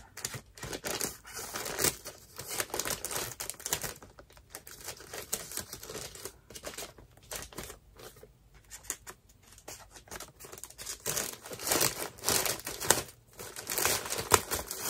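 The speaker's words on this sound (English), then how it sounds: "We're going to open this up. We're going to take a look through it. I'm going to cut it right here." An ASMR mail package being cut open, with dense, close crinkling and rustling of paper and packaging that swells and fades over about fifteen seconds.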